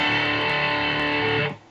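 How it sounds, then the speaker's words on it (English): An electric guitar with a humbucker pickup runs through a Behringer GDI21 pedal set for a Marshall-like distortion, playing one thick, sustained, buzzing chord that rings steadily and then cuts off abruptly. "So here's my humbucker with a Marshall sound."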